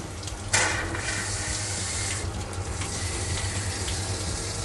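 Water runs steadily from a tap or hose while a dog is being washed, a constant close rushing gush with a brief splash near the start.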